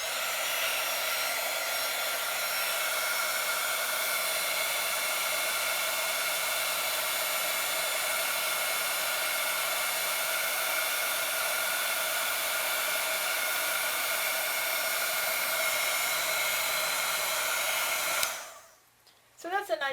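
A heat tool blows steadily and loudly for nearly twenty seconds while heat-setting Distress Ink on a watercolor card, an even whooshing drone that cuts off abruptly near the end.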